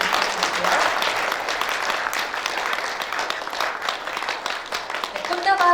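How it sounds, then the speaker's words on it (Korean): Steady audience applause at a Korean journalists' day award ceremony as a plaque is presented, continuous clapping throughout with a voice speaking over the end. "박수 부탁드리고요"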